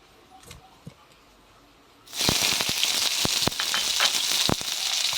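Chopped onion dropped into hot oil already holding cumin, dried chilli and bay leaf for a Bengali chhatur torkari, bursting into a loud, steady sizzle after a quiet start, with sharp crackles and pops spread through it and no talk.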